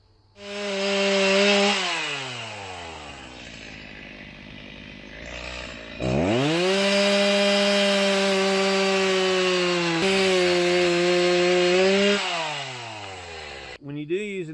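Chainsaw running loud and steady for most of the stretch, revving up and easing off in several passes while felling and cutting up a tree along a forest road, with a brief drop near the middle and a fade at the end.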